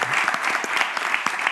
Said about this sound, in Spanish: un aplauso, porque ha sido estupendo y maravilloso